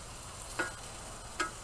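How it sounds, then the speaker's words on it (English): Beef browns in a pan over low heat with a faint steady sizzle, broken by two light clicks of a utensil against the pan. "we're gonna let this cook down and get nice and browned"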